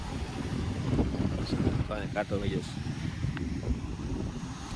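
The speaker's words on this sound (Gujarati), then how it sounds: "વાહ કેટલો પવન સરસ મજાનો આવે." Strong wind gusts buffet the microphone at the seashore, a steady broadband roar running throughout, with people talking over it.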